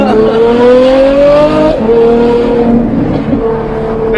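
Ferrari F12 V12 engine roaring loud and close from inside the cabin, a steady rising tone that dips briefly and climbs again, with some voices present.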